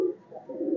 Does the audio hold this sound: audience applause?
no